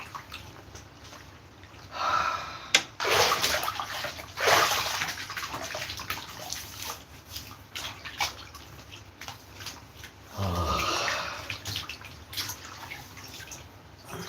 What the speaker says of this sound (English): I'm soaking my hands in the hot water.